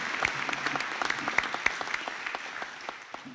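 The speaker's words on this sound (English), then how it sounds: "And I ask you please to give him a round of applause." Applause from the audience at a graduation ceremony as a graduate is honoured, a moderate scatter of distinct claps close by that thins out gradually toward the end.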